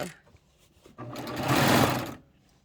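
A serger sewing machine stitches a fabric pillow back, a close whirring run that ramps up, holds steady for about a second, then winds down to silence.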